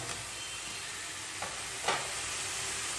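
Dried fish goes into hot oil for a curry, giving a steady, faint hiss of frying under the whole stretch, with a couple of brief spatters and one slightly louder burst near the end.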